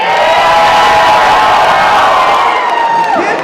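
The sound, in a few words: audience cheering in a vote at a band concert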